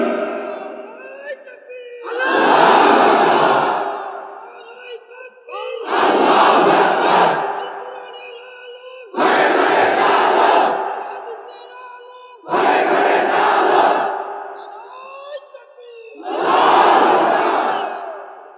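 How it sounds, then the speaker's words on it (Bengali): A crowd in a religious gathering shouts the takbir, Allahu Akbar, in five loud, sustained collective roars spaced evenly apart, with brief pauses between them. "জোরে তাকবীর।"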